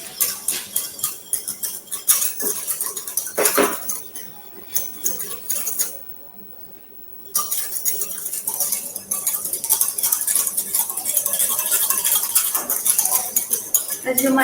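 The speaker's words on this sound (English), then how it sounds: "I will add in the sugar and the agar-agar. And I will whisk it in to dissolve." Sugar and agar-agar whisked in a pot to dissolve for a caramel verrine, heard as rapid metallic clinking and scraping of a whisk against the pot, close and busy with a brief pause partway.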